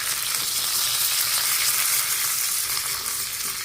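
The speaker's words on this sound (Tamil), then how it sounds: "கருவேப்பிலை போட்டு தாளிக்கிறேன்." Mustard seeds, fenugreek and curry leaves tempering in hot oil for Thanjavur sambar, a loud, steady sizzle and crackle filling the whole stretch without a break, close up with no voices.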